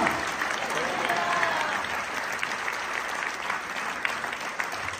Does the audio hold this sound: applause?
yes